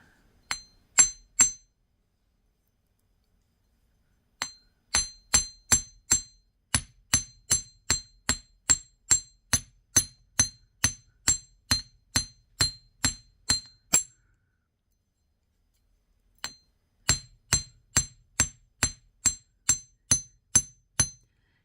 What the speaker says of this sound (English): we're going to get our chasing hammer, and we're going to hammer these down pretty flat.